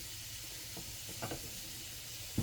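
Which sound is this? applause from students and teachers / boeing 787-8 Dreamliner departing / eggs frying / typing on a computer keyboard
eggs frying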